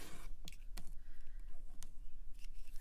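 A rotary cutter rolls along fabric on a cutting mat, trimming sides with a few short sharp clicks and scrapes against a ruler, close and quiet with no talking.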